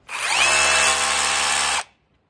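A hammer drill runs in a single loud, close burst with a rattling, buzzing whine, spinning down and stopping after under two seconds.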